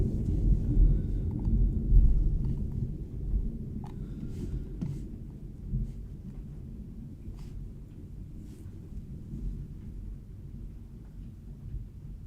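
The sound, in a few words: thunder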